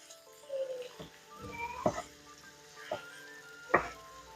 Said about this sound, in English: understand I'm gonna be checking on this every couple of minutes and breaking it up with a spatula.